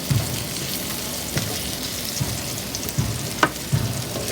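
Lots of garlic frying in a pan for pakbet, a steady close sizzle with occasional stirring clinks and scrapes against the pan, no voices.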